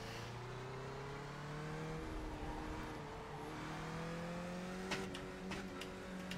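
A simulated race car engine in Assetto Corsa Competizione drones steadily, its pitch climbing, dipping at a shift and climbing again, with a few sharp clicks near the end and no talking.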